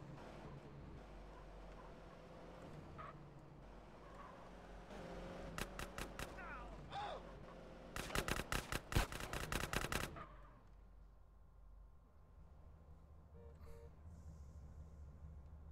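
Gunfire in the video game GTA San Andreas: bursts of rapid automatic shots clatter over engine and traffic noise, followed by a quieter stretch, all fairly faint.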